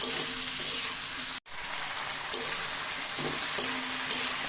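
Potatoes fry in a pan with a steady, moderately loud sizzle, briefly cut off by a moment of silence before the hiss resumes alongside occasional soft stirring scrapes.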